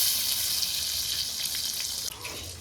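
Hilsa fish pieces frying in hot oil for mustard hilsa, giving a steady, dense, close sizzle that continues throughout with a small pop near the end.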